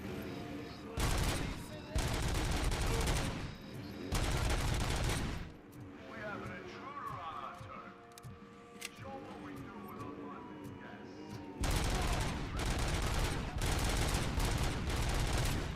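Full-auto gunfire roars in the Robocop video game, loud and dense. Long sustained bursts fill the start and the end, with a quieter, rumbling stretch between them.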